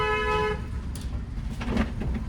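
A car horn is held down in one long press as a learner driver steers through narrow lanes, a steady tonal blast for about half a second, followed by engine and road noise.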